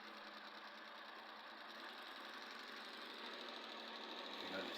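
Suzuki K6A engine idling smoothly after a spark plug change, a faint steady mechanical hum and ticking heard close up, even and unbroken with a slight bump at the end.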